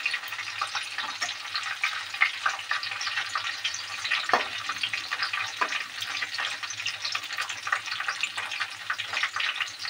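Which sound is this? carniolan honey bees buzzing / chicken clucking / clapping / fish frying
fish frying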